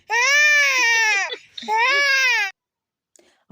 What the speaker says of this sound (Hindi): जैसे ही हमारे पास पीछे वो आया है, इसने इतना रोना शुरू कर दिया